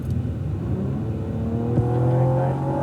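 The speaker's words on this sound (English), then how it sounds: "We've got 460 horsepower out of this twin turbo V6" A Cadillac ATS-V's 460-horsepower twin-turbo V6 drones steadily on a race track, its tone rising as it pulls harder, loud and close with no talking.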